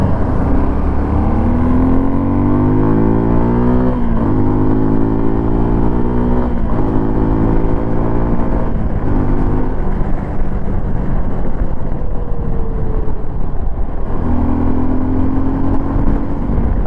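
A 2025 Suzuki V-Strom SX 250 motorcycle rides steadily along a highway, its engine droning loud and close with rising and falling pitch through gear changes and wind rush throughout.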